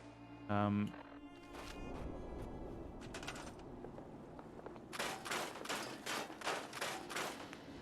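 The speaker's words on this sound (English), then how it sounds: "I hear shooting in the distance, which is slightly worrying" Distant gunfire in Fallout 4, a few scattered shots and bursts echoing far off in the game world, mixed with rustling movement and a brief low thump, with no talking over it.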